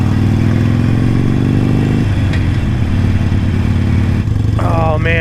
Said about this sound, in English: So many motorcycles.